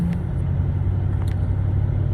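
Steady low engine rumble and road noise inside a truck cab while driving, a loud continuous drone with no talk, marked only by a couple of faint brief ticks.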